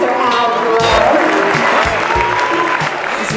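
A concert audience roars with loud, sustained applause and some cheering for a singer, a dense wash of clapping with an amplified voice speaking over it throughout.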